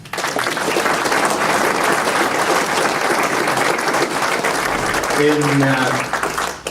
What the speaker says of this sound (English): can you just join me in giving the Honourable Bill English a round of applause?